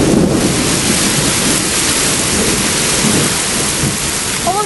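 Heavy, steady rain pours down during a severe tornadic thunderstorm, a dense close roar with a low thunder rumble underneath and gusty wind buffeting the microphone.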